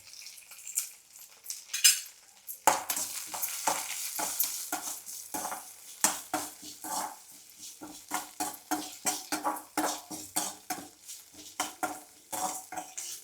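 Curry leaves and garlic sauté in a pan with salt for a moong dal chutney. A faint sizzle runs beneath quick, rhythmic stirring scrapes and clinks that continue throughout.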